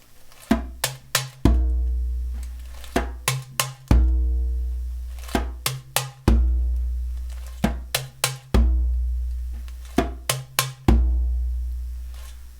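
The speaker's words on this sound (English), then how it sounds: "The second group of 4/16 notes is going to sound like this." A hybrid drum kit groove played with hand and brush, with resonant low thumps and crisp slaps and brush hits in rapid sixteenth-note bursts repeating in a steady cycle, close and alone.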